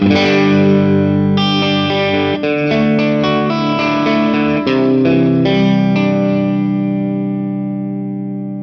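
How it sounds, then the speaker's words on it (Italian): A guitar chord struck hard through a Protein V4 dual overdrive pedal, thick and saturated yet clear, with several strong strums ringing out and slowly fading at the end. "il suono diventa saturo, diventa potente, ma attenzione, non perde definizione"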